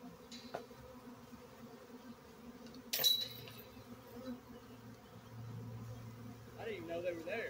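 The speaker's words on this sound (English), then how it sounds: "That's a lot of bees." Bees swarm from a hive inside a felled tree, a dense droning buzz that hangs close throughout, with a sharp glassy clink midway and a brief bit of nearby speech near the end.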